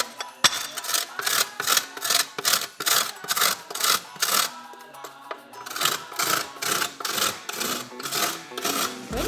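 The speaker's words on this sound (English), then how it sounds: "I'm going to do it on the fine side of the grater" A block of chocolate is grated on the fine side of a grater, making rapid, close scraping strokes in a steady back-and-forth rhythm, with one brief pause midway.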